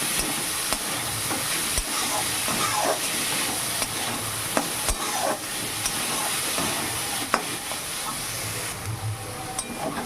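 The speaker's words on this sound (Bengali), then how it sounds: "মুচটা ভাজাটা প্রায় হয়ে এসেছে" Banana flower frying in a pan with spices, a continuous close sizzle under repeated stirring scrapes and occasional sharp utensil knocks against the pan.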